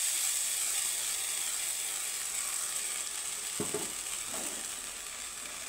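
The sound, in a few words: frying spice masala with onions in pan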